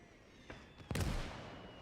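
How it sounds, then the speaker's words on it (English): A mortar strike in the Gates of Hell video game lands at a distance, a muffled boom after a faint pop, fairly quiet with a rumbling tail that fades slowly. "that's a mortar strike"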